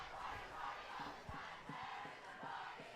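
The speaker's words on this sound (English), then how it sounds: "can hear our band and student section doing the cross-field cheer." A high school football crowd, with the band and student section, chants a cross-field cheer in the stands, rhythmic shouted bursts rising and falling at a distance over a steady crowd roar.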